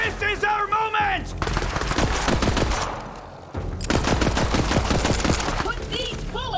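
Rapid automatic gunfire in Borderlands 3 rattles in dense bursts with a brief lull, mixed with whining weapon effects and voiced combat lines.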